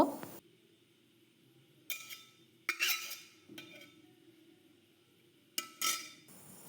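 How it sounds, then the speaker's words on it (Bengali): A utensil stirs palm cake batter with baking soda and fried dry fruits in a bowl, giving a few separate bursts of scraping and clinking against the dish between quiet gaps. "একসঙ্গে দিয়ে খুব ভালোভাবে মিশিয়ে নেব।"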